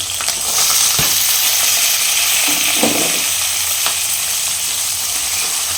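Green chillies and onion frying in a pan, a loud, dense, steady sizzle with a few spatula scrapes and knocks, close by and with no one speaking.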